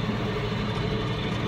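Tractor pulling a seed drill through a field, a steady low engine drone with constant rumble and no other sounds over the short stretch.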